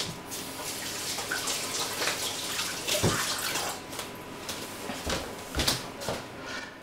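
Tap water runs while hands are wetted at a kitchen sink during meatloaf preparation, making a close, continuous splashing hiss with a few sharper splashes and knocks.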